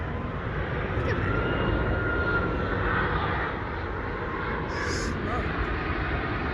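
An Airbus A330 in Lufthansa livery comes in to land at Dulles International Airport, arriving from Frankfurt; a steady, broad jet roar fills the scene at moderate distance, with people talking over it.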